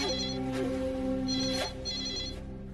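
A telephone rings indoors in a Hindi TV drama scene, a steady electronic ringtone in repeating tonal bursts heard clearly and close, with faint background sound beneath.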